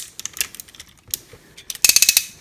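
Hinged joints of a Transformers Masterpiece MP-33 Inferno figure being moved, giving a run of small, close plastic clicks that ends in a quicker burst of several louder ratchet-like snaps.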